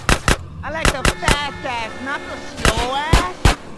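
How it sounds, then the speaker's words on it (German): Gunfire in GTA San Andreas cracks out as loud, sharp shots in uneven bursts, while a voice talks between and under the bangs. "Jetzt werde ich auch noch von der anderen Seite beschossen."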